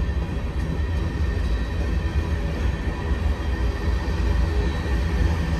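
A BNSF train rumbles steadily nearby at a rail yard in Colton, a loud continuous low roar of rolling cars with no voices.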